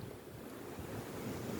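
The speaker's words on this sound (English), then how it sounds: "Oh, it's getting windy." Gusty wind buffets the microphone at the seashore, with steady surf rolling underneath; a continuous, moderately loud rush with no voices.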